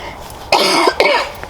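One person coughs twice in quick succession, close and sharp, with a quiet room in the background.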